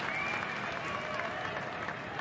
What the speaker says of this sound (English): Crowd appreciates the initiative.